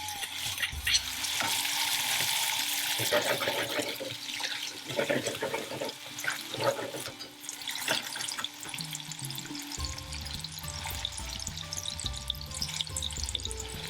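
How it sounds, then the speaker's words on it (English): Peppers and onion softening in hot oil for a saffron curry, a loud, hissing sizzle with occasional stirring scrapes that eases off later beneath background music. "We're just going to soften the peppers and the onion."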